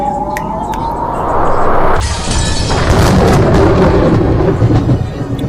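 Black lightning bolt crashing down onto a game board in Umineko, a loud rumbling boom with a sharp crackling impact that rolls on and echoes for several seconds.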